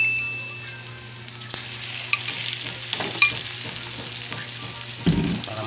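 Onions sautéing in a pan for balbacua, a Filipino beef stew, give a steady soft sizzle with a few stirring scrapes and clinks, close and quiet with no talk.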